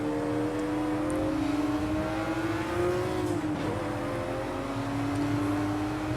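BMW 1M engine at Laguna Seca in a Project Cars 2 or Assetto Corsa racing game, a loud continuous in-car drone with engine pitch rising, dipping through a shift, then climbing again, with no talking.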